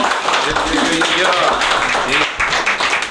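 A crowd applauds at a writing session event, steady clapping filling the room for a few seconds with voices calling out over it.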